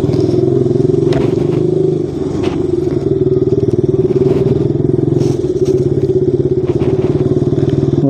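A KTM Duke 200 motorcycle pulls away with a loud, steady engine drone and a grainy, rattling texture, heard up close for about eight seconds with a brief dip in level partway through.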